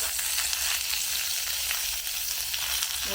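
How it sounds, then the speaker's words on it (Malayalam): Mustard seeds, dried chilies and curry leaves sizzle in hot oil, a bright, steady frying hiss up close with faint crackles and no voices. "എണ്ണ ചൂടായി ഇനി നമുക്ക് ഇതിനകത്തേക്ക് കടു ഇട്ട് കൊടുക്കാം"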